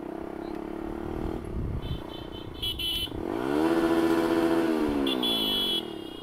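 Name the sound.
motorcycle being ridden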